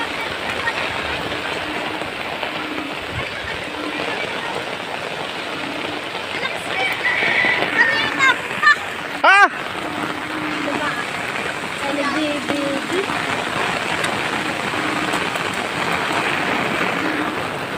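Floodwater in a swollen river rushes under a bridge with a steady, broad roar. A brief sharp sweep rises midway, and a voice speaks faintly over the water.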